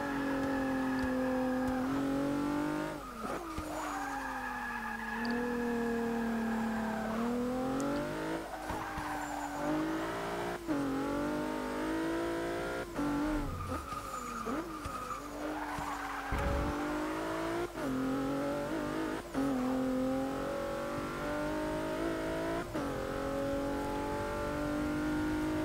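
A 2016 Mazda MX-5 in the racing game Forza 6 runs at high speed, its engine droning steadily through repeated upshifts and rising pitch, with brief tyre squeals throughout.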